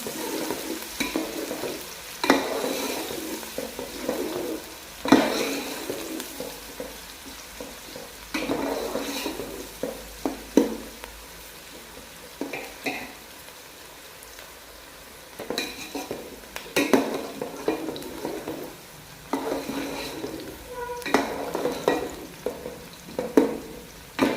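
Onions fry toward dark brown in a pot for beef aloo gosht, with a soft sizzle under recurring bursts of close scraping and clattering stirring spread over a long stretch.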